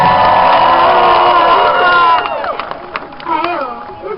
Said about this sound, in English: let's raise a cheer for your Chelsea Knight!